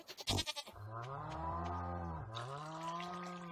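A goat in the Stardew Valley farming game bleats in a long, wavering, nasal call that rises and dips, following a brief rattling burst, loud and close with no talking.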